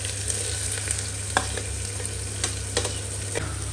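Onions and cumin frying in a pan, a continuous close sizzle and crackle with a low steady hum beneath and a few light scrapes of stirring; no talking.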